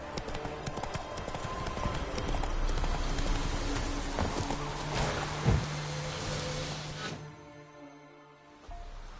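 Hoofbeats of the horse Roach in The Witcher 3 game, a rapid, steady clip-clop of galloping hooves over a busy outdoor background that fades and drops away near the end.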